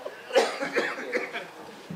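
A few soft, rough coughs sound close by, quiet and uneven, trailing off into faint breathy noise.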